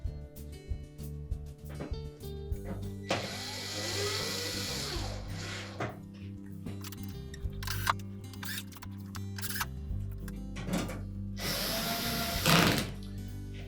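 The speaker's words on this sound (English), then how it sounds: "When the screw holes line up, we can go ahead and install the retaining screws." Retaining screws being driven into a Samsung range panel with a powered driver, two sustained whirring bursts separated by small metallic clicks and handling knocks, close up with no speech.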